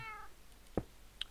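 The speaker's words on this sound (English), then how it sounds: "for those who heard a cat, Ender Zoo adds wither cats for the witches familiars" Wither cat from the Ender Zoo mod for Minecraft, a witch's familiar, gives a short mew that is faint and a little distant, with a brief higher chirp after it against a quiet background.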